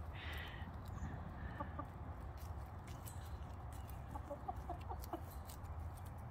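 Several chickens cluck softly and intermittently in a backyard maze built around mealworms, faint short calls scattered over a low outdoor rumble, with no talking.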